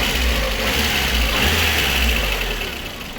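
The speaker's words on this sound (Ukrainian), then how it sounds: "поки я тестую двигун, слухаю, перевіряю" A VAZ 2113 car engine runs steadily at a low idle with a constant rumble and slight uneven knocking, close by, fading a little at the end.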